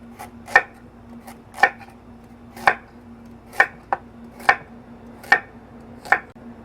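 A knife chops through a carrot on a cutting board, eight crisp, evenly spaced thunks about a second apart, close and clear over a quiet background.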